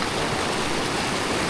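A strong mountain glacier stream in Pakistan's Dudipatsar trek area rushes past close by, a dense, unbroken roar of flowing water with no other sounds.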